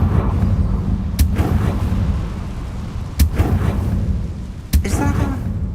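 Confringo fire spell blasts in Hogwarts Legacy, three sharp explosive bursts spaced a couple of seconds apart, each a loud crack with a rumbling tail over a dense, steady low background of game ambience.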